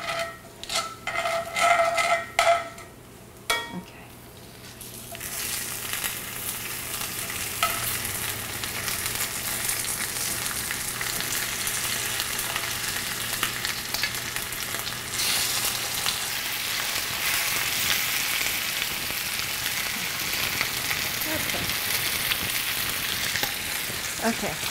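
Fish sizzling and frying in a caramel-brown sauce for Vietnamese canh chua, a few clinks of a utensil and pan at the start, then a steady, dense, close hiss of bubbling and sizzling that carries on alone.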